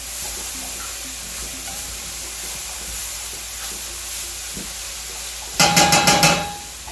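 Vegetables for a crustless turkey pot pie cook in a pan with a steady, moderate sizzle and occasional stir clicks, followed near the end by a brief run of sharp rhythmic knocks.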